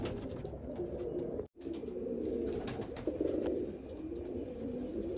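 Soft, low pigeon cooing continues steadily over a constant background hum, with a brief gap near the start and a few faint clicks.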